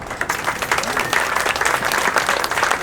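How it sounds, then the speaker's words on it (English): An audience at a bar politics event breaks into a full round of applause, thick, steady clapping from many people filling the room, with some voices underneath. "everyone give yourself a round of applause"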